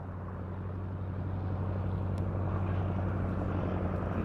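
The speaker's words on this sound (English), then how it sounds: "There it breaks to the right with the Oster Autocrat going left" An Auster Autocrat light aircraft flies at a VE Day air show, its steady propeller-engine drone held at a constant level with a low, even hum that swells slightly as it passes.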